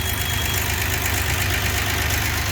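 A 1963 GMC K1000 4x4 pickup truck engine idles steadily up close, a continuous low rumble with a faint rhythmic knock and no voices.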